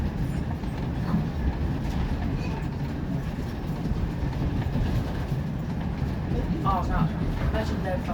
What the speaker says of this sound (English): Do you like riding choo-choo train too?